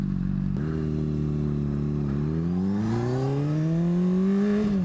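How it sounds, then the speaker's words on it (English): A motorcycle exhaust idles with a deep throb, then revs up in a rising, swelling roar that climbs steadily in pitch, loud and close with no voices. "Did you guys hear that exhaust?"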